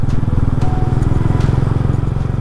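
On a solo road trip toward Mussoorie, a motorcycle engine thrums loud and close at a steady pace, a fast pulsing putter that stays even and is joined by faint road and wind noise.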